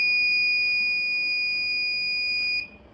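A smart mine-worker helmet's buzzer alarm sounds as a steady high-pitched electronic tone, loud and continuous, cutting off near the end.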